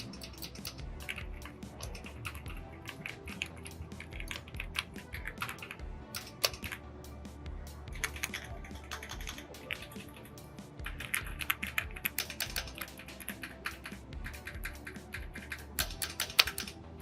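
Continuous typing on an AULA F75 75% mechanical keyboard, a dense stream of soft, muted thocky keystrokes with occasional louder clacks, close up and steady throughout with no talking.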